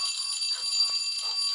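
A door alarm rings in the video game Metel: a steady, shrill electronic buzz with high ringing tones holds throughout, with faint muffled movement underneath.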